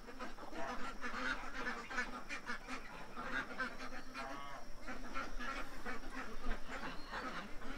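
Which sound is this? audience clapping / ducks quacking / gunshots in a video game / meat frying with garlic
ducks quacking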